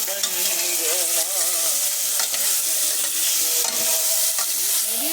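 Coconut aval upma being stirred in a pan: a continuous hiss of frying with repeated scraping strokes of a spoon against the pan, fairly loud and close, with no voices.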